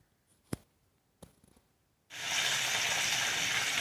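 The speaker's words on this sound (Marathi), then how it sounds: "हा ठेचा आपल्याला छान असा परतून घ्यायचा आहे" After two sharp taps, crushed garlic and green chilli paste hits a hot pan and bursts into loud, sustained sizzling that stays close and steady to the end, with no talk.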